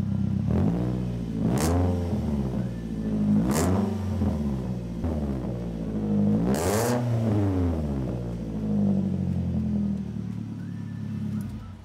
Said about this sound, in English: Give her a little bit of a rev.